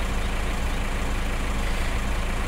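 A tractor engine in Farming Simulator 2015 drones steadily and loudly, a constant low rumble with no breaks or changes in pace.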